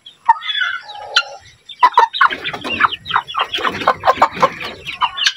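Hen clucking close by, a few single clucks followed by a busy run of rapid, repeated clucks and cackles with no talk over them.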